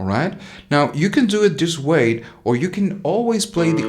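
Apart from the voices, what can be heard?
No distinct noise like a dog, phone or traffic.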